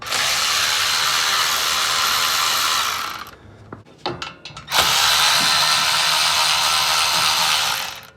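A power tool whirs loudly while removing 8mm bolts from the back side of a Ford spindle, with a brief pause of clicks and rattles in the middle before the steady whine resumes.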